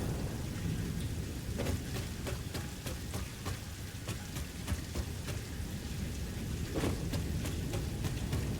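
Rain pours steadily in the video game Satisfactory, a dense broadband wash with scattered sharp drop hits and low rumbling thunder underneath, continuous and fairly close throughout with no voices.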